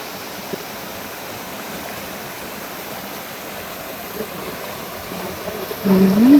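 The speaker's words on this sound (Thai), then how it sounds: "บริการน้ำไหลจ้ะ" Water flowing steadily in a forest stream, a constant broad rushing wash heard up close, with a brief louder swell near the end.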